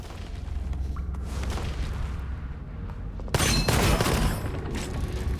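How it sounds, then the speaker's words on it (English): Shooter game Gunfire Reborn with steady weapon fire throughout, jumping to a louder, denser burst of gunshots and blasts midway, close and continuous with no talking. "you can see we shoot enemies, they usually shoot back"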